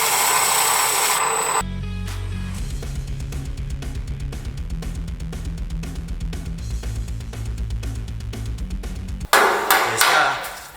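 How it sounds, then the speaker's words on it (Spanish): A metal gear's front face is rubbed back and forth on sandpaper screwed to a piece of wood, giving a quick, regular scraping rhythm of close strokes, with louder, different noise at the start and finish. "Ahora estoy lijando la parte frontal"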